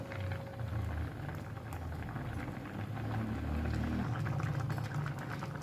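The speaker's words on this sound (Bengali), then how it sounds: "গ্যাসের ফ্লেমটাকে একদম হাইতে রেখে আমি প্রায় এক মিনিটের মতন একটু ফুটিয়ে নেব" Mung dal with pumpkin greens boils hard over a high gas flame, giving a steady, close bubbling and churning with low rumbling surges and no voices.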